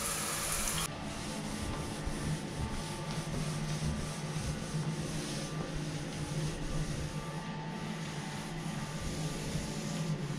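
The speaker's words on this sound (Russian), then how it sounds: "Надо все-все-все протереть." Continuous rubbing and scrubbing of a cloth across a hard surface in a hotel room, steady and close, with a slightly louder stroke at the very start.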